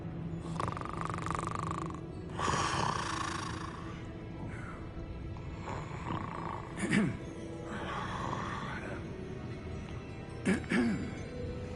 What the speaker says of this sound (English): Is that who's snoring?